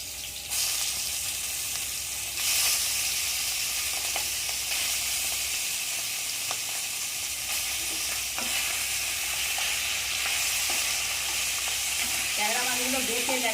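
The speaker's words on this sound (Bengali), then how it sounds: "তেল গরম হয়ে গেছে প্রথমে আমি ট্যাংরা মাছগুলো ভেজে নেবো" Tangra fish fry in hot mustard oil in a kadai with a loud, constant crackling sizzle. Stirring clatters and scrapes come through near the end.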